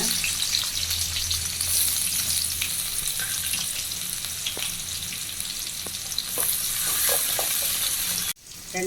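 Onions sizzle and crackle steadily in a hot pan, close up, with occasional stirring scrapes; the frying stops abruptly near the end.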